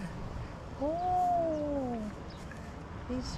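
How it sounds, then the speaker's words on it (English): A cat lets out a long, drawn meow, rising then falling, followed by a brief short mew, heard fairly close amid a family of cats outdoors in Greece with steady background noise. "Oh, so many cats. Big cat family."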